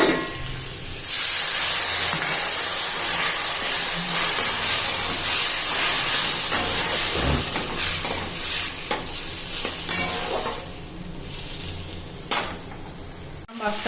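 Prawn curry sizzles and hisses loudly in a hot pan as water hits it, a steady steamy crackle with stirring scrapes and a sharp burst near the end.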